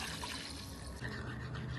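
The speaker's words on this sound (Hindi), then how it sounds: "ये वाला 1 गिलास पानी डाल रही हूँ" A glass of water is poured into a pan holding a spoonful of ghee, giving a brief, close, continuous splashing and filling rush with no speech.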